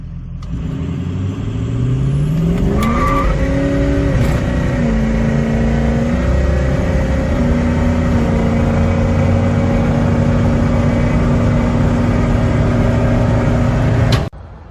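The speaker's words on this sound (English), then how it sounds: "So instead of doing like a boosted launch, I'm just gonna step on it and just see what happens." A 600 HP car launching hard from a standstill, its engine climbing steadily in pitch through the gears, loud and close, holding a strong roar for over ten seconds before cutting off abruptly.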